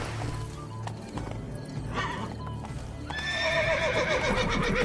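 A horse in The Witcher 3 gives a loud whinny, then clip-clops into a trot with hoofbeats and tack jangling, close and clear, with a brief murmur of voice.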